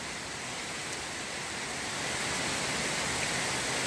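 Heavy first rain of winter pours down steadily, a dense even hiss of downpour that swells slightly louder partway through, with no voices.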